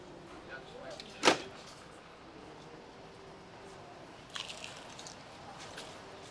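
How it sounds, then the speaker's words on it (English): A vending machine door swings with one sharp clack, then a softer rattle a few seconds later over a quiet room hum. "Lovely motion on that door."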